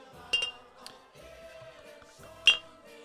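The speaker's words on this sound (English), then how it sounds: "You want an Oktoberfest glass? I got a glass ready for you." An Oktoberfest beer glass being handled gives two sharp, bright clinks, one early and one near the end, over a quiet, steady background hum.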